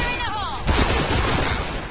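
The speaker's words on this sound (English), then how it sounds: "Oh, God, it's grenades!" Grenade blasts and gunfire in a video game, a sudden heavy burst followed by rapid crackling shots, with a voice briefly audible before the blast.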